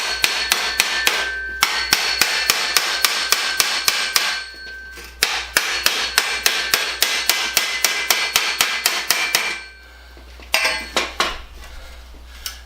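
A pipe is hammered into a frame to serve as a mandrel: sharp metallic blows ring out close and loud in fast, regular runs of strikes, broken by short pauses, with no talking.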